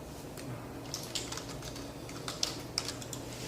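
Fingers tapping a computer keyboard on a Windows 7 machine, a quick irregular run of soft clicks over a steady background hum, with no talking.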